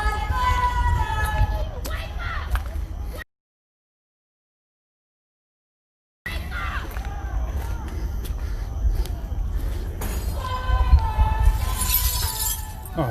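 Glass windows shatter during a night protest in Kenosha, Wisconsin, a sharp crash rising near the end over ongoing crowd babble, shouting voices and footsteps.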